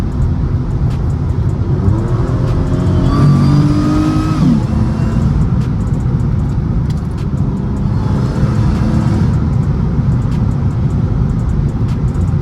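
A supercharged Mercedes C32 AMG accelerates hard at full throttle, its engine note loud and steady and rising in pitch for a stretch, then carrying on as continuous road and engine noise with no talking.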